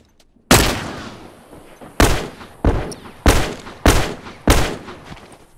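Gunfire and a grenade explosion in the video game The Last of Us: six sharp, loud blasts at irregular intervals, each decaying into a rumbling tail, with no voices.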